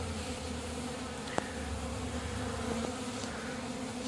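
Steady buzzing of bees close by at a hive hole during robbing, a continuous insect drone with a faint tick partway through and no voices.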